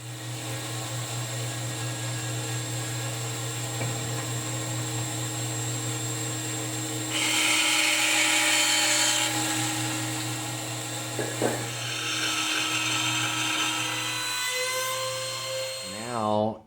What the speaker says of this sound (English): But now we're gonna just get these fret slots started.